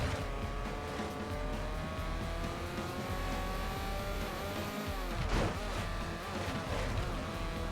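A race car in the 007: Everything or Nothing PS2 game, its engine droning steadily and revving, with a tire squeal or passing whoosh near the middle, the sound running alone without talk.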